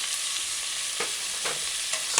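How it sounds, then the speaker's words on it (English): Carrot sticks are stirred into chicken frying in a pan: a steady close sizzle broken by several soft scraping stirs, with no speech. "Stir it in, stir it in."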